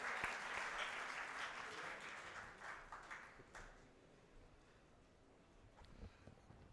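A conference audience applauding to welcome the president at a summit, loud dense clapping at first that gradually thins and fades.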